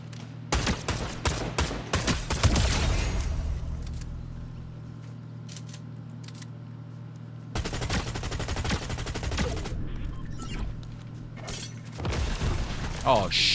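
SMG fire in Fortnite: rapid bursts of automatic shots in three separate clusters, loud and close, with quieter mechanical clicks and a steady hum filling the gaps between bursts.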